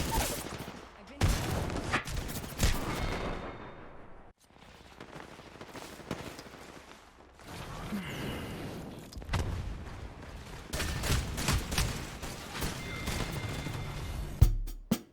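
Gunfire in the battle game Apex Legends during an arena match: bursts of rapid shots and sharp reports come in clusters between quieter gaps, mixed with game effects and some voice.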